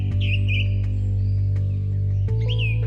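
A song thrush sings brief whistled phrases, a few bright notes at the start and again near the end, heard faintly over a steady, loud low drone.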